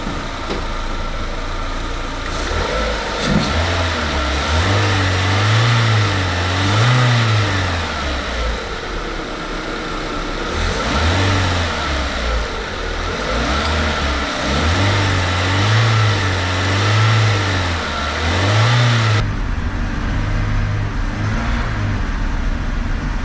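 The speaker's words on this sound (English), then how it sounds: "This is probably the point which we give a bit more of a rev" A Renault Clio 182 Cup engine revs up and down in repeated surges over a steady idle, loud and close, with no talking.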